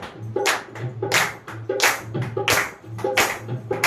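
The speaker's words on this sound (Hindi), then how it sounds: "ताली बजाते रहो, बंद मत करा करो तालियां" A congregation at a Friday prayer meeting claps in a steady, even rhythm, about one clap every two-thirds of a second, with faint room noise.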